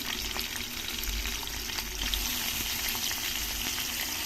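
Onion pieces frying in oil with curry leaves and green chillies for a ridge gourd curry, giving a steady, dense sizzle that holds at an even level throughout with no talking.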